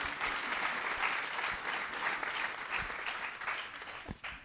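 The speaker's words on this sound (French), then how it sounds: "Applaudissez-les, s'il vous plaît." Audience at a business conference on taking over a company applauds in a sustained, even wash of clapping that fades slightly toward the end, with a few louder individual claps standing out.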